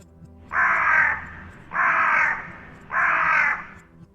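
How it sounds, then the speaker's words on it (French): A crow caws three times in a slow, evenly spaced series, each call harsh and drawn out, fairly close against a quiet background. "c'est le chant d'un corbeau qui accompagna l'arrivée du soleil"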